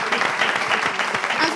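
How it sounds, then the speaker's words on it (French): A seated audience at a morning television show claps briefly, a dense, fairly close burst of applause with some uneven clapping and a bit of crowd noise mixed in. "Applaudissez pour vous-même alors."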